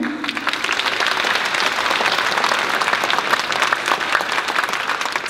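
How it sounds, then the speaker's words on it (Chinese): Loud, dense applause from a concert audience at a Chinese traditional orchestra performance, steady clapping throughout with no pause. "再次的掌声给他们。"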